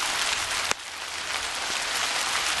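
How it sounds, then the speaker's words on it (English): Summer rain pours down steadily outdoors in Nice on the Côte d'Azur, a dense even hiss of drops on surfaces with one sharp tap early on, close and continuous throughout. "it's decided to start raining while I'm standing here doing video"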